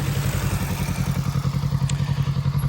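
A motorcycle engine drops from throttle to a steady, pulsing low idle rumble as the rider backs off, close and continuous with no talk.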